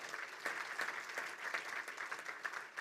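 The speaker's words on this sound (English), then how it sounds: "Give yourselves a round of applause." Audience applause at the Jewish Law Symposium: a full room clapping steadily and fairly loudly throughout, dense overlapping claps with no voices.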